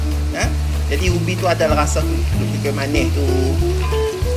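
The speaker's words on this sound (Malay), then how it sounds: "Kita goreng tu bagi ubi tu janganlah hancur sangat." Cassava chunks sizzle and crackle steadily as they fry in a pan, with cinnamon bark added to the oil, a continuous frying hiss running under a voice talking throughout.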